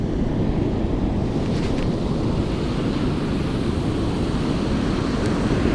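Ocean waves break on a beach about 35 feet away from someone fishing on the shore, a steady, loud roar of surf with wind buffeting the microphone throughout, and no voices.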